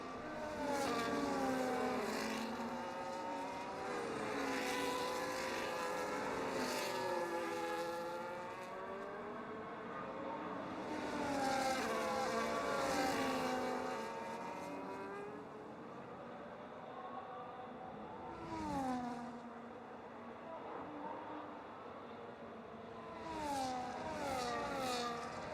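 Formula-style race cars in an F1.5 sim racing championship at the Belgian Grand Prix, running bunched behind a safety car; several engine whines rise and fall continuously and overlap, with no talk.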